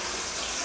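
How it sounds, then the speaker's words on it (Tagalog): Strong water flow gushing from a bathroom tap in a hotel room at Pico de Loro Hotel in Batangas, Philippines, a steady, close, loud rush with no break. "Malakas ang tubig."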